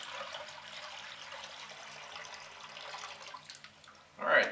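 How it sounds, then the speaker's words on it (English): Water poured into a plastic bag, a steady broad trickling and rushing pour that runs continuously before ending in a brief louder slosh. "fill up the bag full of water"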